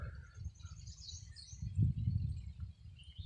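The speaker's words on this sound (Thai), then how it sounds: "นี่คือเสียงนกป่ามาเนาะทุกคน" Wild red-whiskered bulbuls and other forest birds calling in the distance, faint high chirps over a steady low rumble of wind and outdoor background.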